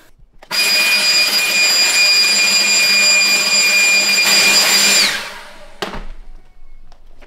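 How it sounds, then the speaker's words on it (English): Leaf blower aimed at a floor mat during cleaning: a loud, high whining rush of air that starts abruptly and holds steady for several seconds, then winds down, leaving faint handling noise. "Hit that thing with that leaf blower real quick."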